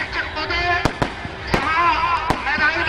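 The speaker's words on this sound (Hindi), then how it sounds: "अब ये बिल्कुल आतिशबाजी शुरू हो चुकी है" Fireworks burst at a Ravan Dahan festival in Siwan, several sharp cracks popping over a noisy crowd and someone speaking nearby.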